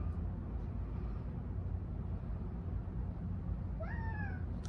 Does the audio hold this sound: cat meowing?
yes